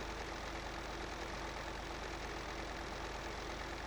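Tractor engine idling in Farming Simulator 2013, a steady low broadband drone that holds even and unbroken throughout, with no voices over it.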